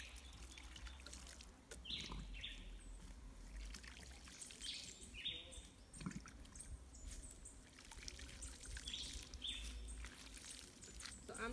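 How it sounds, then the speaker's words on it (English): Water sprinkled by hand around the roots of freshly planted crops in a Jamaican backyard farm, a soft steady trickle and pour running throughout with occasional birds chirping in the background. "I'm using my hand to sprinkle the water like that so I can get the water evenly around the roots."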